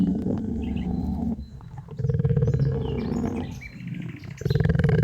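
Tiger roaring in an animated Hindi jungle story, several loud, close, drawn-out growling roars with brief gaps between them and faint bird chirps behind, no speech.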